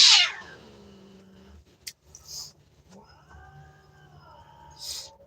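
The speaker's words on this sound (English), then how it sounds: "There's a new cat introduction going on, and the cat is not happy." An unhappy cat during a new cat introduction lets out a drawn-out, wavering meow close by, followed after a short pause by a second lower, complaining yowl, with faint thumps and a quiet background hum.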